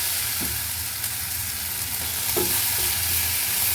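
Pirandai (veldt grape) sizzles steadily in a hot pan, a continuous close frying hiss with a few soft scrapes of stirring.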